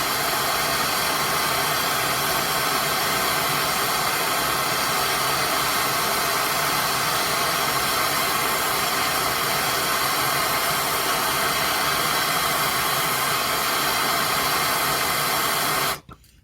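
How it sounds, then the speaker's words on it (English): Torch heating a bumper nut on a 1977 Chevrolet C10 Cheyenne, a loud, steady roaring hiss that holds unbroken for about sixteen seconds, then cuts off abruptly. "Now I want to just heat the bolt up, or the nut up."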